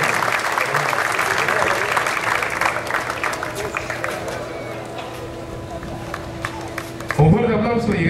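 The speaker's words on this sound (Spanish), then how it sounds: "Un fuerte aplauso" A crowd claps for the doubles tennis champions at a trophy presentation, applause that gradually thins with scattered claps before a voice cuts in near the end.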